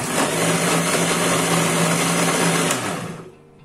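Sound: electric mixer grinder blending mango shake with milk

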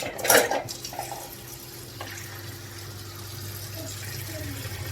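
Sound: hot water poured into an old pot

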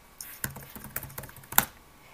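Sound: typing a password on a computer keyboard

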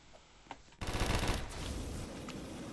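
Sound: gunfire in video game Roblox Da Hood

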